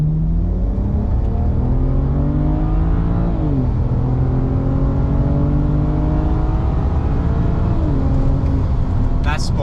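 A BMW with an N54 Alpina engine revs hard at wide open throttle in sports mode, climbing to high RPM, with a loud, continuous engine roar that rises in pitch, drops briefly at each gear change, then climbs again.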